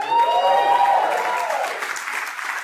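Short burst of audience applause at a comedy show, a dense wash of clapping that starts loud and tapers slightly over a few seconds, with no one talking over it.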